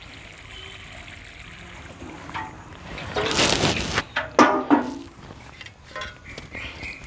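Water is poured onto a freshly transplanted hibiscus plant in its pot, a splashing, trickling rush building midway and breaking into a few spattering bursts.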